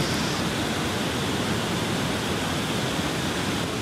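A waterfall on the Krka river in Croatia roars as a dense, constant wall of white noise, loud and close, unbroken by any other sound.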